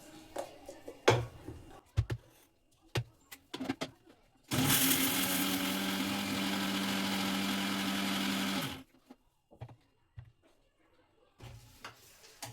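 A kitchen mixer grinds sun-dried ginger into powder in one loud, steady whir lasting about four seconds, with scattered clatter and brief speech before and after the run.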